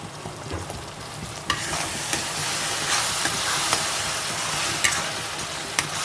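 Ground tomato and cashew paste fries in a hot pan for a bottle gourd gravy, a loud continuous sizzle with periodic spatula knocks and stirring scrapes, close up and without speech.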